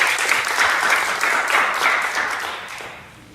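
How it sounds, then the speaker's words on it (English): An audience applauds Professor Little at a public debate on voting, a dense, steady round of clapping from a full room that holds strong for a few seconds and then tapers off toward the end. "Let's give Professor Little a round of applause."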